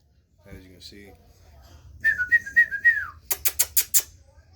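A brief voice comes first, then a person gives a quick run of rising and falling whistled notes to American Bully puppies, followed by a string of sharp, rapid tapping clicks close by.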